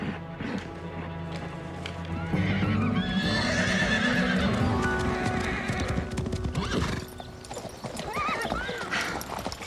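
An animated horse gallops with rapid, close clip-clop hoofbeats and lets out loud whinnying neighs, the sound busy and continuous with a brief lull near the end.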